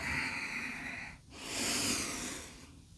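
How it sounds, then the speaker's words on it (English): Slow, deliberate yoga breathing in a gentle flow session, one long audible inhale followed by a long airy exhale, soft and close with no talking. "Inhale and exhale."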